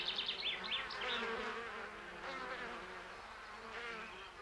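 Insects feeding on the nectar of white umbel flowers (angelica) make a soft, continuous buzzing and droning hum, with several small wingbeat tones overlapping at a moderate distance.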